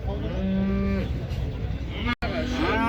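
Cattle, cows and bulls, mooing repeatedly amid a busy livestock market din in Uzynagash near Almaty, long low calls overlapping one another, with a brief dropout near the end.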